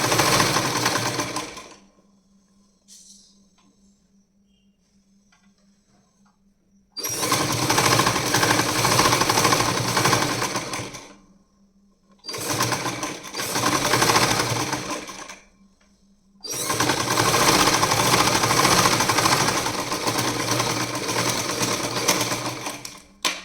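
Sewing machine stitching the folded edge of a pillow cover in a tailoring class, loud rapid whirring runs in three long bursts separated by quiet pauses, with a brief shorter run midway.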